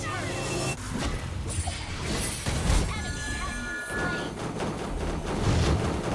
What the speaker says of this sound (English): Is it just me or Chang'e hitting the shield really sounds satisfying?